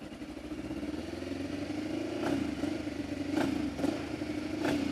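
A Spicy 110 small motorcycle idles cold with its choke on, a low steady putter with irregular throttle blips that rise and fall several times, fairly close and without talk.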